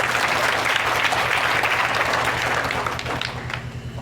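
A group claps together in applause at a gurukul gathering, loud and steady, fading slightly toward the end.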